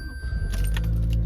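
A 2021 Toyota Corolla sedan starting with the key in the ignition: a brief jangle of keys, then the engine catches and settles into a steady, smooth idle, heard close up from inside the car.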